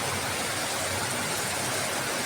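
Heavy rainwater pours down from above after a downpour, a dense, constant hiss and splash close by, loud and unbroken throughout.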